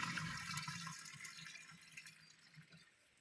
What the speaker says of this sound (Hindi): पानी डाल दे हमें